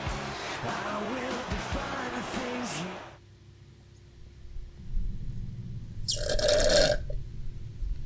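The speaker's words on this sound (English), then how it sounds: "I gotta stop drinking my Pepsi so fast. I'm gonna be burping like mad now" After speech over game noise from WWE SmackDown vs. Raw 2011, a single loud, drawn-out burp follows drinking Pepsi fast, close to the microphone.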